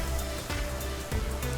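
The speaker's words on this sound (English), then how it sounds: "Oh, and we have a rainstorm here." A heavy rainstorm pours down in a dense, steady hiss with scattered louder drops, fairly close, with no talking.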